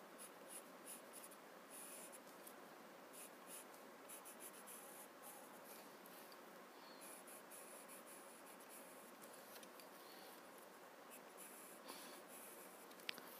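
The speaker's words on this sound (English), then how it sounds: "I'm going to use my chalk pencils" Chalk pencils drawing on paper for a Zentangle winter tile, a steady soft scratching and rubbing that continues quietly and closely throughout, with faint stroke accents and no talking.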